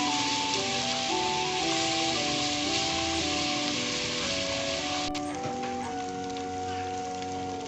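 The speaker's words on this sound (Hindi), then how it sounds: "अदरक लहसुन का पेस्ट डालेंगे। इसको भी 2 से 3 मिनट अच्छे से फ्राई करेंगे।" Ginger garlic paste fries in a pan with a continuous hissing sizzle, heard beneath a steady melodic music track.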